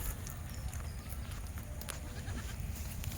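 Goats on a village farm bleating over steady outdoor background noise, with faint scattered calls rising briefly above a constant low rumble.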